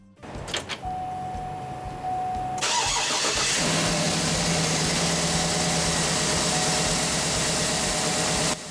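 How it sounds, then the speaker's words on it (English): A Cadillac Escalade engine cranks and catches, then settles into a steady, loud idle close by. "go ahead now and start your engine"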